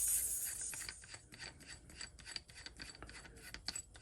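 Air tank assembly being unscrewed from an Edgun Leshiy 2 air rifle, a close, faint rhythmic scraping and rasping of threads turning in quick repeated strokes.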